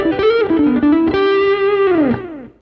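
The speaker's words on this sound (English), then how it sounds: "We can put a bit of delay on that." An electric guitar played through a Headrush Core with a delay effect gives a bright, sustained melodic line whose notes slide and ring out with echoing repeats before fading at the end.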